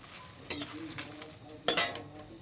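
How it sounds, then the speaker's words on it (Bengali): Dried red chilies and bay leaves fry in a pan with a soft, steady sizzle, broken by two sharp scraping stirs about a second apart. "লঙ্কা তেজপাতাটা প্রায় ভাজা ভাজা হয়ে এসছে"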